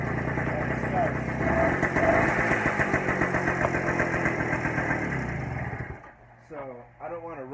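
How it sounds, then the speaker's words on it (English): An old motorcycle engine, kick-started and leaking oil, runs with a steady loud chugging idle for several seconds before cutting out, followed by a voice talking. "you give it a couple turns of the gas and a couple kicks and it starts"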